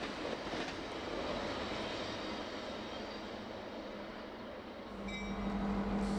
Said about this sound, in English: What makes this train unique is the 5605 GP38 bringing up the rear of the lead locomotive.